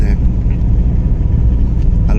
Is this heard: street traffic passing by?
yes